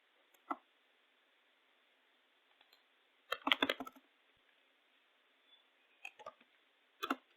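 Typing Java code on a computer keyboard: scattered keystrokes in short bursts, a quick flurry of clicks in the middle and a few isolated taps around it, close and quiet against near silence.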